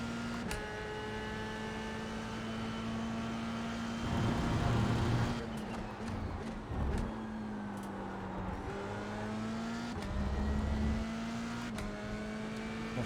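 F3 single-seater race car lapping the Red Bull Ring, a steady onboard engine drone with rising and falling pitch through gear changes and throttle lifts, continuous and close.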